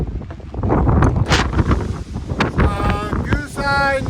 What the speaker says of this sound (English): Say it's rather windy.